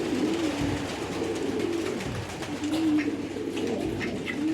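Domestic pigeons coo in low, rolling, repeated calls, fairly close and steady over a constant background hum, with no talking.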